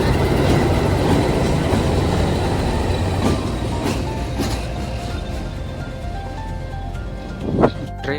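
A train near Lovedale, Ooty, rumbles steadily along the tracks with a rolling low drone, wheels clicking faintly, ending in a brief metallic squeal.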